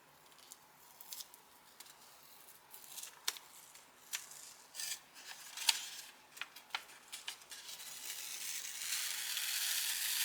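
A sublimation transfer is peeled off pressed cotton fabric: faint, close, sticky ticks and crackles come at irregular intervals, then build into a steady, soft tearing rasp as the sheet comes away.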